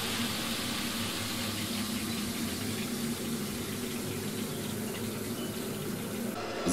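Water runs continuously from an open outdoor tap on a home water supply system with a constant hiss and a low pump drone underneath, with no voices.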